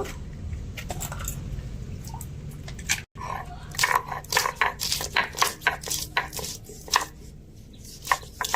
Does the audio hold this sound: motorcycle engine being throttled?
no